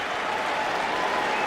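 A tennis crowd applauds after a match-winning ace, dense sustained clapping that holds steady and fairly loud from start to finish, with no voices standing out.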